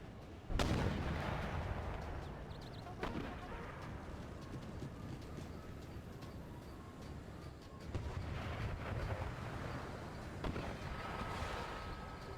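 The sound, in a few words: artillery fire in Empire Total War video game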